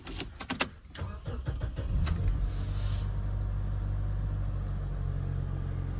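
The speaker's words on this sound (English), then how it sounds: "Start the car now." A 2011 Toyota HiAce GL ten-seater van engine cranks and starts after a few clicks and key sounds, then settles into a steady, low, rumbling idle that stays loud and even.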